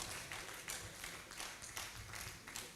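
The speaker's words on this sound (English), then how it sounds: "Please, another round of applause for these children who have made us proud" Applause for pharmacy inductees at a faculty induction ceremony, a steady wash of many hands clapping in the hall with rhythmic swells, fairly faint and continuous throughout.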